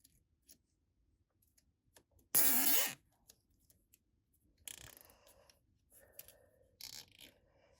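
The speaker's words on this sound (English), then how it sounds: "And I'm going to put the zip tie on right there." A plastic zip tie is pulled tight around an electrical lamp cord about six inches above the socket of a pendant lamp: a short, dense ratcheting zip, then scattered small clicks and rubs with no talk.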